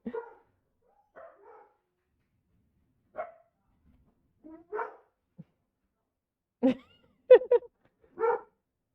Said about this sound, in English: I have very good guard dogs. If anyone's in front of the house, they set to singing.